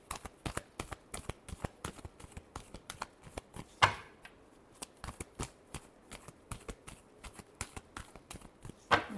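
Tarot cards are shuffled close up in a long series of quick, sharp riffling snaps and taps, irregular in rhythm and fairly faint, with no voices.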